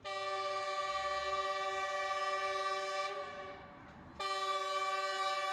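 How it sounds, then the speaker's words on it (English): A loud passing train's horn blares in sustained, chord-like blasts close by in Costa Rica, dipping briefly before surging back at full strength. "the unbelievably loud train"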